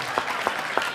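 Three short bursts of clapping from a church congregation during a sermon, evenly spaced, like brief rhythmic applause from a small group.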